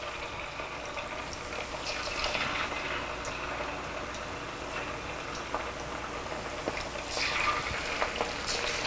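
Buffalo chicken bites fry in hot oil, giving a steady, close sizzling and bubbling crackle with scattered pops that swell slightly toward the end, with no talking.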